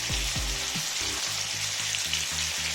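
Chicken reshmi kebab pieces sizzle steadily in a pan over a medium flame, a dense continuous hiss with soft low bubbling pops throughout, close and even, no voices.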